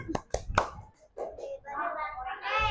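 Schoolchildren in a fourth-grade classroom clap out the tepuk hebat chant: three sharp, close claps in quick rhythm, then a pause and a burst of children's chanting voices.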